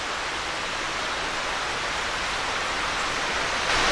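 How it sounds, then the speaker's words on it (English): Darby Creek flows below an old log cabin, a steady broadband rush of moving water heard through an open window, constant and even throughout with no voices. "I had the window open so I could hear the sound of the stream down there,"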